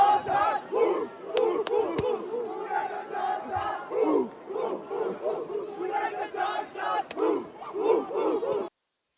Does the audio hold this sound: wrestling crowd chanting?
yes